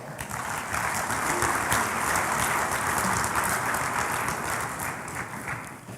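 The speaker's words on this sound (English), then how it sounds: "acclamation with a round of applause." Delegates at the 33rd AFC Congress applaud together to elect an executive committee member by acclamation. A hall full of clapping rises quickly and holds as a broad, sustained wash for six seconds before thinning slightly.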